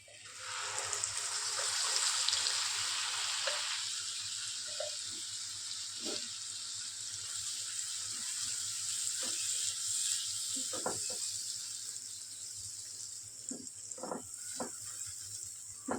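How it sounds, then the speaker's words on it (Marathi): Ground masala paste sizzles in hot oil for a Bengali-style rohu fish curry, a steady bright hiss running throughout with faint scattered pops and crackles, no talking over it. "तेल सुटेपर्यंत आपण हे वाटण फ्राय करून घेऊ"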